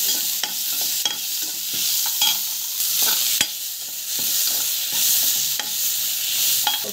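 Tomatoes sautéing in a pan, a steady sizzle running throughout with occasional spoon scrapes and stirring knocks, no talking.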